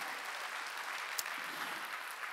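A church congregation at a Korean Wednesday worship service breaks into applause, a dense, even wash of many hands clapping together, heard at a modest, somewhat distant level with no voices on top.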